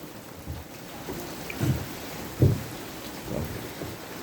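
Rain falls steadily outdoors while low thunder rumbles roll through in several soft swells, one louder clap standing out midway.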